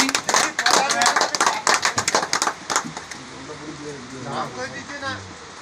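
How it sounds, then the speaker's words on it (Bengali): An audience claps to honour a speaker at a Syama Prasad Mookerjee birth anniversary gathering, a burst of close, uneven hand claps for about three seconds that thins out, followed by people talking. "সবাই আমরা করতালি দিয়ে ওনাকে সম্বর্ধনা জ্ঞাপন করছি"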